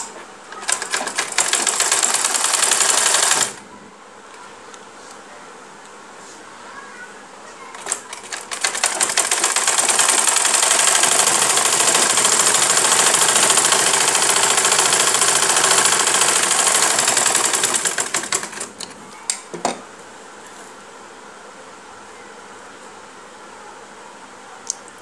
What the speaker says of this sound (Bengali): আমি সেলাই করে নিচ্ছি।